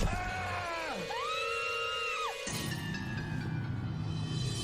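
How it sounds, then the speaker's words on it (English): Several women scream together in a TV show, high, loud rising and falling shrieks that hold for a couple of seconds, then break into overlapping yelling and crowd-like noise. "Yes, scream it up, ladies."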